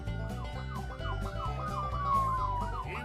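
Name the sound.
police car siren sound effect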